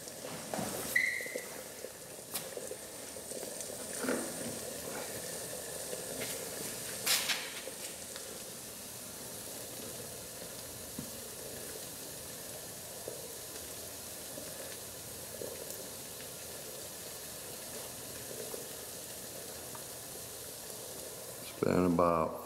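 Bacon sizzles in a pan on a portable stainless steel pellet gasifier stove, a faint, steady hiss under a low background roar, with occasional brief clicks and a louder burst at the end.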